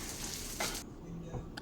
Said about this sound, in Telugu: ఇవి మంచిగా దోరగా అయితే ఫ్రై చేసుకోండి